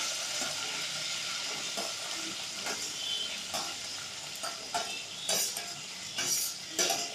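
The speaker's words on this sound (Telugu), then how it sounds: "పచ్చిమిర్చి గోలిన తర్వాత ఉల్లిగడ్డలు వేయవలను." Green chillies and onions frying in hot oil for a Telangana-style chicken masala curry, a steady sizzle with occasional stirring scrapes and clinks of a spoon against the pan, close and continuous.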